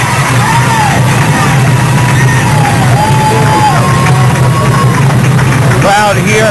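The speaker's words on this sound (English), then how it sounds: "Crowd here, many from Hilton Head Island, Bluffton area, cheering the May River Patriots on." A high school football crowd at a state championship game, cheering for the May River Patriots, makes a loud, continuous roar with yells rising over it, while a voice talks through the noise.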